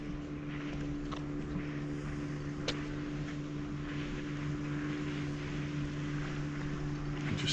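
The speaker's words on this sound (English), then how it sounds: "You just hear a boat coming in." A steady engine drone with a low hum holds throughout, a small dinghy motor coming into the marina at Puerto Portals, Mallorca, fairly constant in level with outdoor ambience.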